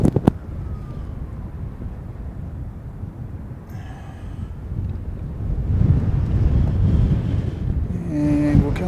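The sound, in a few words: wind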